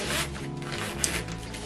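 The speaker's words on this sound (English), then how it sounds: "There's a zipper here" A zipper on an electric hair steamer cap runs in one short, close rasping pull, with a small click near the end.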